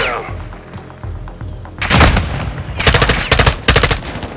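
Gunfire in Call of Duty: Modern Warfare II, loud rapid bursts of automatic fire that start after a quieter stretch and come in several heavy volleys, with game voices faintly underneath.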